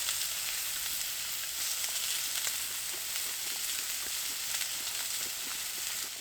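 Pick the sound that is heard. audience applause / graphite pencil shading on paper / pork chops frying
pork chops frying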